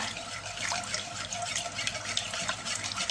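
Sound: pouring water for agar jelly

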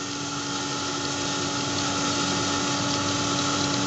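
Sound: mini electric atta chakki flour mill running

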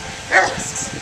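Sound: Rottweiler dog barking

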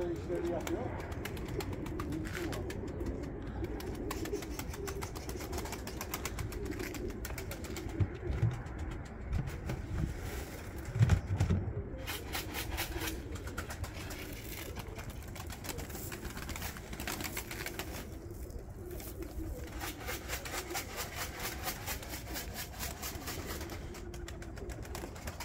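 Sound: pigeons cooing and flying

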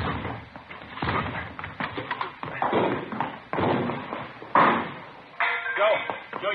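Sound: police forcing a door open, radio drama sound effect

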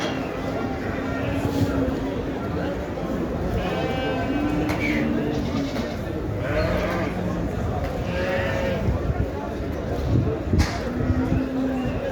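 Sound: sheep bleating at livestock market

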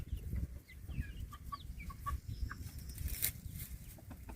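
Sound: grey chickens and rooster on a farm

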